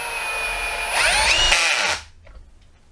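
A Ryobi R18PD7 drill drives an 8 gauge by 2 inch screw, whining loudly and close for about two seconds with the pitch rising under load, then cutting off abruptly into quiet.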